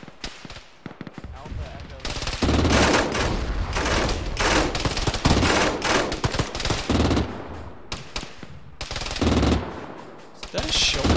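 Loud, sustained automatic gunfire in ArmA during a ShackTac squad mission, long rattling bursts with short pauses between them, close and dominant, with faint voices in the gaps.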